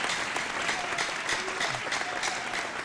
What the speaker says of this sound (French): Je crois véritablement qu'on devrait l'applaudir très,